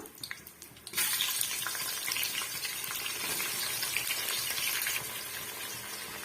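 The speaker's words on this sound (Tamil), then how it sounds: "முழுமையாக இந்த வெங்காயம் நல்லாவே வதங்கி வரணுங்க" Sliced onions for Chettinad chicken biryani hit hot oil with a sudden loud hiss, then fry in a steady, dense sizzle close up that eases a little toward the end.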